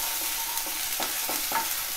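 Chopped onion and tomato fry in a hot-oil tempering for a spicy horse gram (kulith) sambar, sizzling steadily while a spoon scrapes and stirs the pan in several distinct strokes, close and clear.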